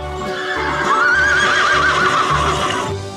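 Horse neighing loudly and close, a wavering whinny over rhythmic clip-clop hoofbeats.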